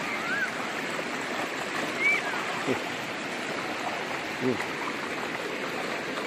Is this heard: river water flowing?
yes